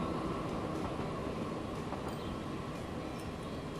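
A steady rumbling rattle of a train in the game Transport Fever rolls along continuously, a dense low roar with faint metallic squeaks, no voices.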